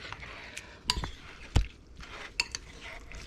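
Cilantro being mixed into food in a bowl, with a few scattered utensil clinks and scrapes against the bowl, fairly close and otherwise quiet.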